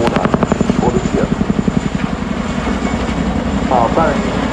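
A Boeing CH-47 Chinook helicopter flies a display at the ILA Berlin 2018 air show, its loud, close rotor beat thudding rhythmically while a commentator talks over it.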